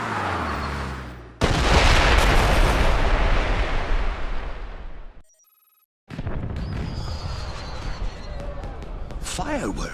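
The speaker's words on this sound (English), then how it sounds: "Did you know there were going to be fireworks?" Fireworks exploding in a night scene: a loud sustained barrage of booms and crackle that cuts out briefly, then resumes with scattered bangs and whistling rises.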